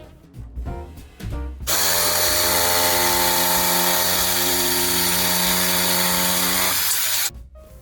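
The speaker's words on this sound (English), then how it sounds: "it's always fun using my jigsaw" A jigsaw cuts a wooden sign, its motor buzzing loud and steady for several seconds after a few brief starts, then stopping abruptly.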